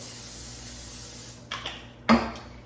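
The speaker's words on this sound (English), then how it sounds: "we need some non-stick Pam here. So we're gonna coat the sides of this decent." Pam non-stick cooking spray hissed onto a baking dish, quiet background then a short spray burst followed by a stronger, closer hiss near the end.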